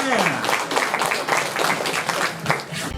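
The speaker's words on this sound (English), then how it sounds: "Let's welcome, ladies and gentlemen, with a big applause, Rosalyn Kahn." Audience clapping to welcome a speaker at a corporate grand opening, brief bursts of claps mixed with a voice speaking over them.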